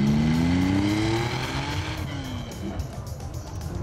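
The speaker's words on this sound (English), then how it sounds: "The whine of the fan," A 1973 Porsche 911 2.7RS on the move: its engine cooling fan whines with a rising pitch over a low engine drone, heard from inside the car, and the whine fades as the revs settle.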